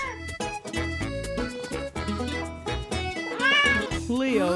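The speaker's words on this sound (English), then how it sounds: "Sing meow, meow, meow, the voice of a cat." Cat meows ring out in a cheerful preschool animal song, a run of drawn-out meows over bouncy music, growing louder toward the end.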